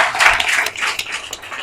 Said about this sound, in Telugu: అందరూ చప్పట్లు కొట్టి ప్రభు.